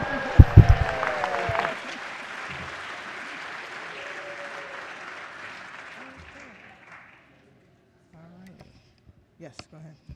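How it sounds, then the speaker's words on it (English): Applause in a state House legislative chamber during a floor session, a burst of clapping that swells and then fades away over several seconds, leaving near silence with faint voices near the end. "they too get an applause right now."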